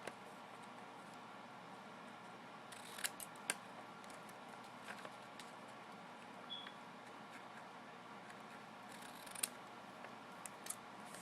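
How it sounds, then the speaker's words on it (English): Soft snips of scissors cutting paper come in a few scattered bursts against a quiet background, with faint rustling between cuts. "With her scissors, she cut a door."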